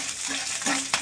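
Green chillies hit hot tempering oil for a cucumber sambar, giving a short, close, bright sizzle with a light stir, heard alone.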